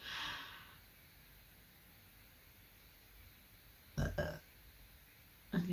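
A person lets out a short, throaty burp, followed moments later by a second brief one, both close and fairly loud against a quiet, hissy background.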